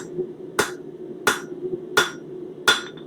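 A hammer strikes metal leaf on the corner of an anvil during a leaf-forging tutorial, four sharp ringing blows evenly spaced about 0.7 seconds apart, close and loud, each leaving a brief metallic ring, with no voices.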